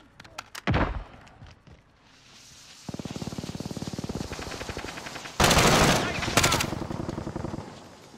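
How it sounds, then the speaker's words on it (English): Gunfire in Call of Duty Modern Warfare: rapid automatic bursts, with a long sustained machine-gun stretch and loud, dense blasts later on, close and forceful, and a voice heard briefly among the shots. "They're shooting at me!"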